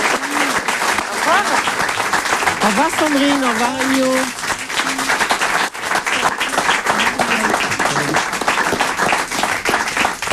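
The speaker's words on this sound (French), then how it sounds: "Et on applaudit Sandrine aussi." A television studio audience applauds loudly and continuously while a host speaks over the clapping.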